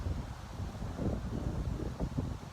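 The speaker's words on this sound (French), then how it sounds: "Malgré la tempête, comme en ce moment, beaucoup de vent" Gusty wind from a storm buffets the microphone in a steady low rumble, loud and continuous with surging gusts and no talk.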